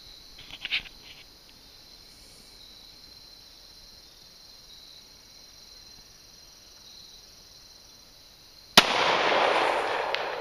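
A single sharp Glock 19 Gen 4 pistol shot cracks near the end, fired at a 55-gallon drum 240 yards downfield outdoors, followed by a noisy rush, with insects chirping faintly across the quiet before it.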